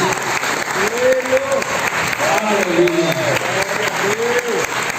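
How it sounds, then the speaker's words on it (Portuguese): Congregation applause at a Sunday morning family church service fills the room in a steady wash while a preacher's amplified voice rings out over it. "Aplauda o Senhor nessa manhã"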